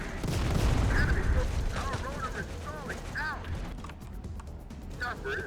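Light artillery fires in the video game Terminator: Dark Fate - Defiance, heavy booms and crashes rumbling amid mechanical battle noise and chirping effects, with someone talking over it.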